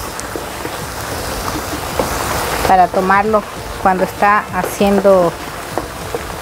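Steady rain hisses and patters throughout, with someone talking over it in the second half.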